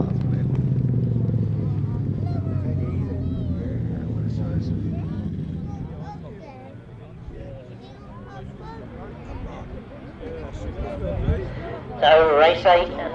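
1000cc sidecar motorcycles race on a grasstrack at a championship meeting, engines roaring loudly then fading into the distance beneath continuous commentary.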